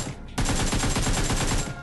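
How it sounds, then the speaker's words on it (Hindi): Rapid, loud gunfire erupts in the video game PUBG after a brief quiet moment, a dense burst of repeated shots rattling steadily to the end without any speech. "बेचारे को मैं मार देता हूँ शॉटगन से"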